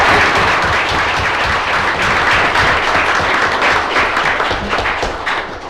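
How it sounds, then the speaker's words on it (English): Audience applause at a city council meeting, a steady wash of many hands clapping that carries through the whole stretch and softens slightly toward the end. "Well, let's clap"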